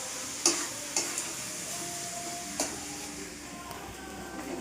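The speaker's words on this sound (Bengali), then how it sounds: "এই দেখো পেঁয়াজগুলোকে কুচি করে বেরেস্তার মতো করে ভাজা হচ্ছে।" Chopped onions frying in a pan for a chicken dish, with a steady sizzle and hiss broken by several sharp scraping knocks of stirring, close by.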